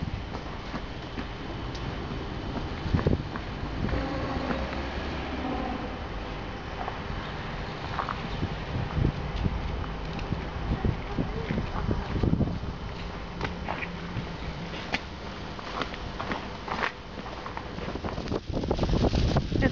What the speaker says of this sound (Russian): Ужасный ветер.